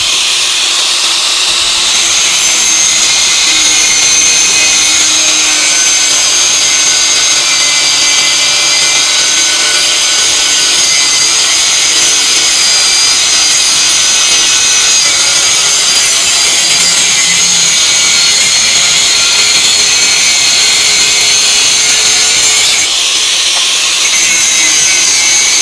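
A Dongcheng DSM21-100E variable-speed electric angle grinder cuts continuously, a loud, close, high-pitched whine and grinding rasp held steady for the whole stretch, with a brief dip near the end and no talk.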